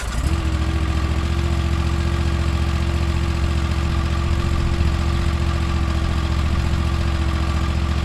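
A Bad Boy MZ Rambler 42 residential zero-turn mower engine cranks briefly, then catches and runs at a steady, loud, close idle with a constant low drone and no talking.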